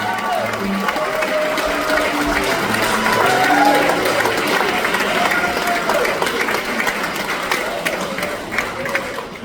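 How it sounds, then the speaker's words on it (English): An audience gives a round of applause for Jack, a drummer who was Buddy Rich's protégé. Steady, sustained clapping fills the room at moderate loudness, with crowd murmur and some voices underneath throughout. "Let's give Jack a nice round of applause"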